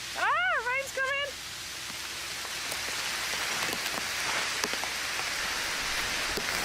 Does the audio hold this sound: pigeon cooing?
no